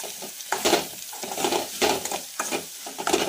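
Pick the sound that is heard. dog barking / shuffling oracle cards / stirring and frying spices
stirring and frying spices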